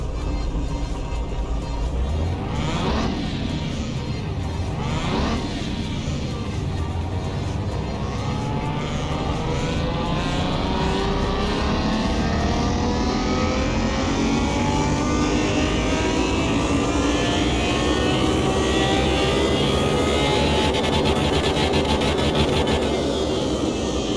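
A car engine in Car Mechanic Simulator 2021 revs hard on a dynamometer, with rising and falling sweeps as it climbs through the gears, then holds a sustained loud roar that keeps building in pitch to the end.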